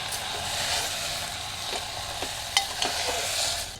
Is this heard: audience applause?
no